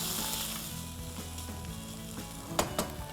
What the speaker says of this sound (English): tip in some chickpeas